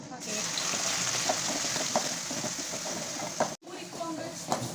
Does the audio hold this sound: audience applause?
no